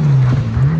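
A Mitsubishi Evo rally car on a forest rally stage, its engine a loud, close, steady drone that holds for the brief moment it passes.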